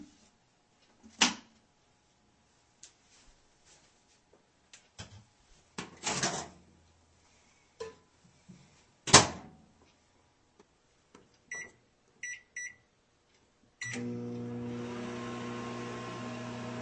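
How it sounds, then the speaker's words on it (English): Microwave oven heating milk for hot chocolate, preceded by scattered clicks and thumps of the door and buttons, several short beeps, then the steady hum of the oven running at the end. "while your milk is in the microwave heating to the proper temperature in order to let the chocolate syrup dissolve properly"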